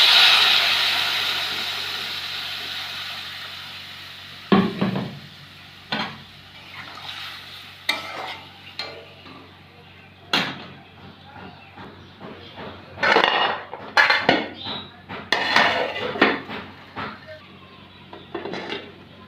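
Lentil dumplings (bori) fry in a pan under a soft steady sizzle, with a spoon scraping and clanking in irregular bursts as they are stirred.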